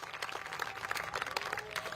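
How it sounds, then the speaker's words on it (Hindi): Audience applause at a televised election discussion event, a scattered mass of clapping hands with some crowd noise, faint and distant-sounding but continuous. "एक बार जोरदार तालियों से आप अपना भी स्वागत कीजिए"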